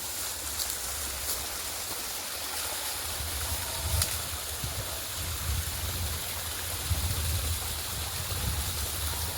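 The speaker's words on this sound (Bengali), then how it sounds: "ওরকম থেকে আবার তক্তার উপর দিয়ে জলটা আসছে, যেন পুকুরের পাড় না ভেঙে যায়।" Water pours steadily from a pipe over a wooden plank at the edge of a pond, a constant close rushing flow with no voices.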